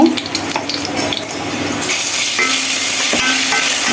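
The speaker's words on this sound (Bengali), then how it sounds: "সামান্য একটু পানি দিয়ে দিলাম" Water poured into a pan of frying ginger-garlic paste with cinnamon and bay leaf, giving a loud, steady hiss and sizzle that swells partway through and continues evenly to the end.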